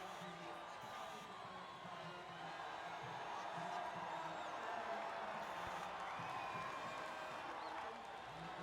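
A stadium crowd in the F1 25 game cheers and applauds the podium finishers, a distant, steady roar of whoops and clapping lasting throughout at modest volume.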